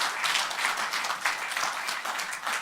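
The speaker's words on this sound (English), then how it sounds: "Please give him a round of applause." Audience applause at a reality show grand finale, a steady round of clapping from a seated crowd, loud and continuous for a few seconds without speech.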